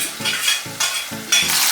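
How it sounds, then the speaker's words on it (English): Ackee sautés in seasoning and oil with a steady, close sizzle, punctuated by a few soft scraping stirs in the pan; no voices. "I will let that saute in the seasoning and the oil for about 30 seconds"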